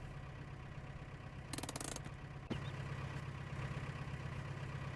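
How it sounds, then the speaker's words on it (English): A vehicle engine runs rough in Farming Simulator 17, a low steady drone with a brief rattling clatter midway, quiet and alone with no voices. "that's why the engine doesn't sound so good"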